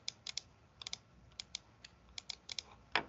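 Quick, faint computer clicks tap out in irregular clusters, close and dry with a slightly louder burst at the end, while someone works through digitizing software for embroidery sequencing.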